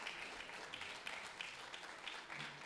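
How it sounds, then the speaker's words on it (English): Faint, steady applause from an audience at a startup business meeting, a soft continuous patter of many hands heard from a distance. "why don't another round of applause for one of my heroes, one of my mentors, Charlie Paparelli"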